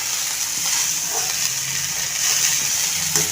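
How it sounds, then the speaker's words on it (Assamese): Dhekia fiddlehead fern greens frying in a pan, a continuous loud sizzle and hiss with occasional stirring scrapes, close up and without talk. "এয়া ঢেকীয়া শাক ভাজি আছোঁ"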